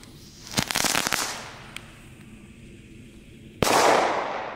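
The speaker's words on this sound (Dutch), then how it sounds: "de knetter is bijna even hard als de knal" A rapid burst of sharp crackles from a loud Belgian firework, a quiet pause with a pop, then a loud bang followed by more crackling.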